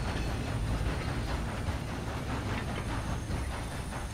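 A steam train runs in the Red Dead Redemption video game, a steady, continuous rumble and hiss of rolling rail wagons, close and even in loudness throughout, with no voices.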